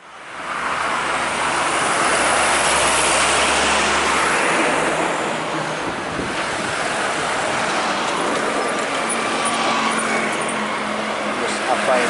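Heavy road vehicles roar past at speed in a continuous loud rush of engine and tire noise, with a deep low rumble early on and no clear voices over the din.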